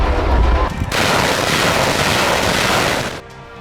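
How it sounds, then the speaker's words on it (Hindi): Indian Army artillery firing during a military exercise: guns, mortars and rockets produce a loud, dense roar of blasts that lasts a few seconds before cutting off abruptly. "बंदूक, मोटार, रॉकेट की बेहद मारक शक्ति, भारतीय सेना के तोपखाने के बल का घातक और सटीक प्रदर्शन।"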